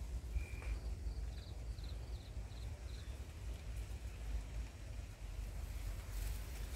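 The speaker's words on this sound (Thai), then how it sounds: "บรรยากาศท้องทุ่งนาลมโอ้โหลมโชยลมแรงมากลมแรงมากเลยค่ะ" Strong evening wind blows across open rice fields, a steady loud low rumble of gusting air buffeting the microphone throughout, with a few faint high bird chirps early on.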